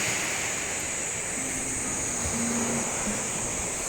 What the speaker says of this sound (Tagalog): sarap pakinggan ng dagat ngayon